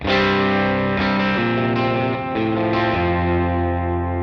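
An electric guitar through a Keeley El Rey Dorado overdrive pedal plays a few sustained chords, thick and distorted, changing every second or so and ringing out continuously.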